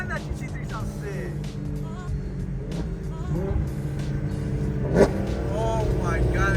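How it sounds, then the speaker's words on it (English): A Porsche GT3 engine rumbles and revs nearby at a car meet, rising in intensity toward the end, with people talking and faint chatter over the engine noise. "Damn, that GT3 sounds sick."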